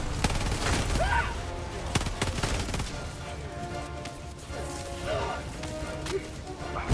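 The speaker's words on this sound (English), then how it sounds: "Artillery." Artillery strike explosions in Helldivers 2 amid rapid machine-gun fire, a dense clatter of shots with sharp cracks early on, fairly loud, with a voice talking over parts.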